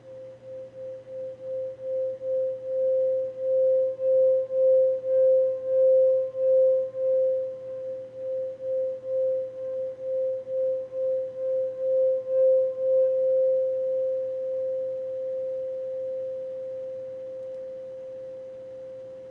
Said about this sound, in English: and for now, a little bit of singing bowl.